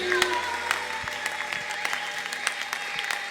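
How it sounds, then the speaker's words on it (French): Church congregation applauding steadily through a worship service, a dense patter of claps with a few sharp close ones, a faint voice audible underneath. "Applaudis très bien pour Jésus-Christ"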